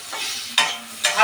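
Mixed chopped vegetables frying in a little oil, a steady close sizzle broken by two sharp stirring scrapes.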